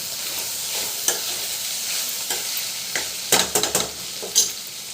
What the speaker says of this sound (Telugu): కొత్తిమీర వేసుకుందాం. కలుపుకుందాం అండి.